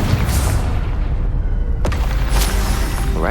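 A Confringo blasting spell goes off in Hogwarts Legacy, heard as a heavy, rumbling explosive burst with a sharp crack near the middle, all under a continuous loud low boom.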